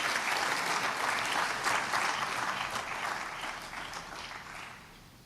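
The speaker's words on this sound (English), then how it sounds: "You can give her a round of applause." Audience applause at a national honours investiture ceremony, a dense, steady clatter of many hands clapping indoors that gradually fades toward the end, with no talking over it.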